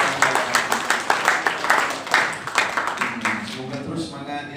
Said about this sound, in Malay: Tepuk tangan pada Abang kita.